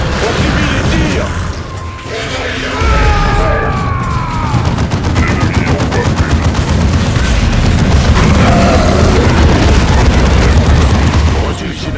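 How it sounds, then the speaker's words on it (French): Dense battle din from Dawn of War 2: continuous loud rattling gunfire and mechanical clatter with booming impacts across the whole stretch, a voice briefly audible within the chaotic mix. "On subit les tirs."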